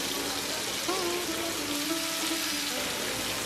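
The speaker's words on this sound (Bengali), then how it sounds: "সবজিগুলোকে সাইড করে দিয়ে এর মধ্যে কিছু কারি পাতা দিয়ে দেবো" Curry leaves fry with vegetables in a pan, giving a steady close sizzle and hiss with a constant level throughout and no talking.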